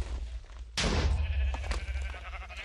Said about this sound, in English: Oh, and that suffocates the sheep.